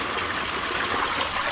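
Cold mountain stream water flows and trickles continuously over rocks, a steady close rushing hiss with no voices.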